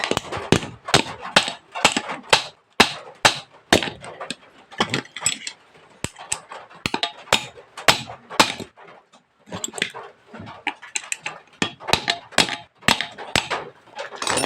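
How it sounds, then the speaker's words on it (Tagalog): A hammer repeatedly strikes stiff, stuck motor parts while swapping the motor of a spinner, giving a dense run of sharp, loud metallic knocks in quick irregular bursts with brief pauses between them. "Tapos yung ating martilyo."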